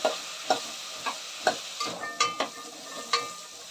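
Lentils frying in oil are stirred with a utensil, giving a series of sharp scraping strokes every half second or so over a faint, steady sizzle, close by and without talk.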